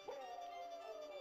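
A wolf in a video game gives a single sustained howl that slides gently downward, fairly close and clear over a steady background hum, with no talking.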